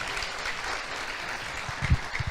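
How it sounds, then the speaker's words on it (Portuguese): Congregation clapping during a church sermon, a steady broadband patter of hands with a few louder claps near the end, moderately close and without speech over it. "aplauda o Senhor"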